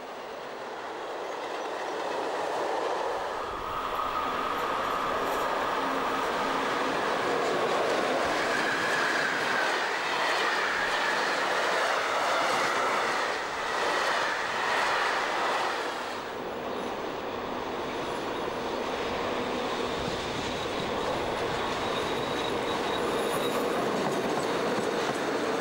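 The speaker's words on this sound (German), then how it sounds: "Eine Zeit lang war praktisch jeder Zug am Rhein mit einer 140 bespannt." A DB Class 140 electric locomotive hauling a train past a line along the Rhine, a long loud continuous rumble of wagons with rhythmic wheel clatter and some squeal, fading slightly near the end.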